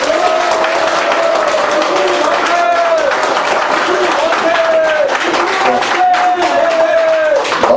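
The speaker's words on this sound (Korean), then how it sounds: "같이 박수 한번 주십시오." Continuous applause and crowd noise from an audience at a Korean political rally, steady and loud throughout, with sustained voices rising over the clapping.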